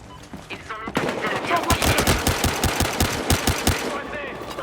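A heavy pistol fires in Battlefield Hardline multiplayer, a rapid burst of loud, evenly spaced shots after a brief quieter lead-in, with a voice faintly underneath.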